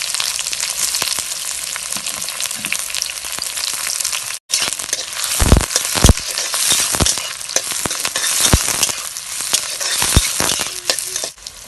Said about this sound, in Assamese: এয়া পিঁয়াজ দিলোঁ তেলত